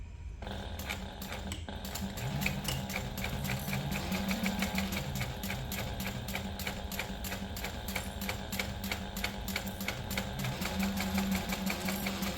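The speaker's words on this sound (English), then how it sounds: "my sewing machine sounds a little funky" A sewing machine that sounds slightly off stitches a quarter-inch seam on a crossbody bag continuously at a steady rapid pace, its rhythmic mechanical clatter and motor hum running throughout.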